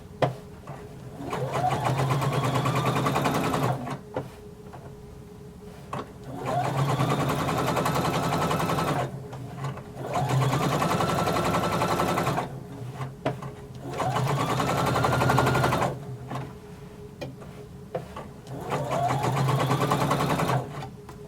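A sewing machine stitches a jumpsuit seam in five sustained runs of rapid, steady motor whirring, each several seconds long, separated by short pauses, close and fairly loud with no talking.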